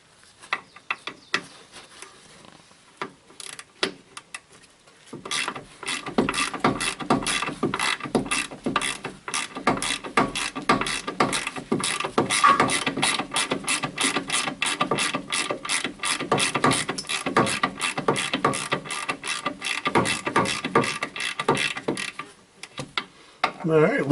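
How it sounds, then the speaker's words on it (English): Ratchet working a rusted upper control arm bolt loose on a Chevy 2500HD, a rapid run of close, loud clicks going on for many seconds after a quieter start. "So we're going to take the ratchet to it and see if we can get her loose."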